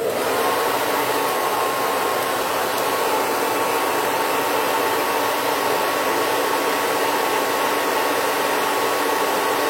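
A powerful, high-wattage Remington hair dryer runs at full blast, giving a loud, steady whooshing whir with a faint high whine that holds constant for about ten seconds, with no talking.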